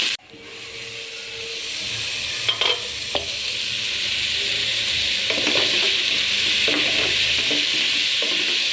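Food frying in a pan on a home stove, a steady loud sizzle and hiss with scattered clinks and scrapes of stirring, no talking.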